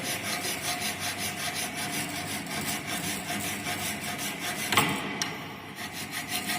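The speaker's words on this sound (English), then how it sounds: "This is known as drag filing." A hand file is drag-filed across metal in a fitting shop, giving a steady, close rasping rub repeated in even strokes, with a sharper scrape near the end and no talk.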